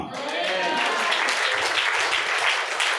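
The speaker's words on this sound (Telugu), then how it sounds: "దేవునికి చప్పట్లు కొడదాం" A church congregation claps and applauds together in praise of God, a dense, steady wash of many hands at a moderate distance, sustained without pause.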